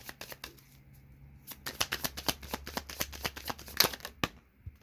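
Tarot cards shuffled by hand in a rapid run of crisp riffling snaps, building from a few scattered flicks into a dense burst, then a final slap as the deck settles; close and clear with no talking.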